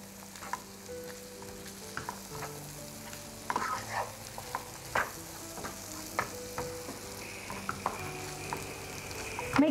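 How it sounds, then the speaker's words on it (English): Chickpeas and scattered spices fry on medium heat in a pan while being stirred, a steady close sizzle broken by repeated scraping knocks of the utensil at an uneven rhythm. "Give that a mix."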